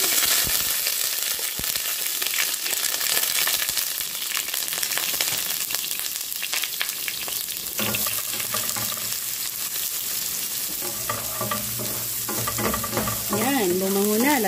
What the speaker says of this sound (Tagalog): Igisa natin ang onion at garlic.